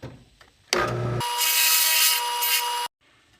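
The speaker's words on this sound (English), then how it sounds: "get yourself a clamp to the table if you can, counterbore this hole" A hole is counterbored in a chucked-up piece clamped to the table, making a close, loud, steady grinding whir that starts abruptly, holds for about two seconds and cuts off sharply.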